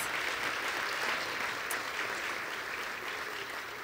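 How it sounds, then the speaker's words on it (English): Audience applause at an employee recognition and leadership award ceremony, a dense steady wash of clapping from a large crowd, moderately faint and continuous with no talk. "One more big round of applause to all 3 of our Raymond S. Kellis Leadership Award recipients."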